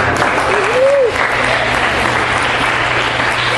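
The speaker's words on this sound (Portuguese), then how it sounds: "Uma salva de palmas para essa linda mensagem." Church congregation applauding after a message, a dense, steady round of clapping heard close and loud throughout, with a brief voice near the start.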